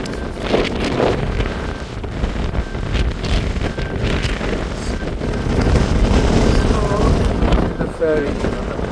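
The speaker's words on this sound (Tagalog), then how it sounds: "This is what you call a blustery day." Strong gusts buffeting the microphone on a blustery day in Tubigon near the ferry, a loud, continuous roaring rumble with surges and brief lulls, a voice speaking faintly beneath it.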